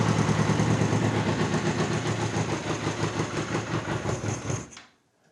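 A Honda Nighthawk motorcycle engine, being revived after sitting four years, turns over with a rapid, rhythmic chugging close by, continuing steadily for several seconds before cutting off.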